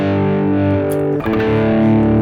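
Electric guitar with heavy distortion plays typical rock power chords in a smoky rock intro, sustained chords ringing loud and close with a brief break midway before strumming resumes.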